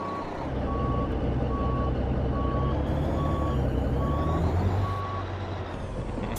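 Reversing alarm on a Mack R Series truck in American Truck Simulator beeps seven times at an even, steady pace over a constant engine drone, with a short hiss near the end.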